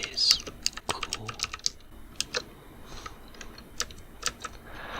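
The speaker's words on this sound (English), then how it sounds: "we're going to type something in" Soft, close typing on a computer keyboard in a quiet room, with irregular clusters of light key clicks and taps.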